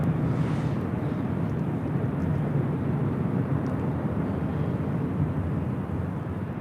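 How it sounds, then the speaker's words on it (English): An ANA Boeing Dreamliner on flight 106 from Tokyo Haneda arrives at LAX, a steady broadband roar of jet engines that stays loud and even, easing slightly toward the end. "This is the ANA Dreamliner. It's Flight 106 coming in from Tokyo, Haneda."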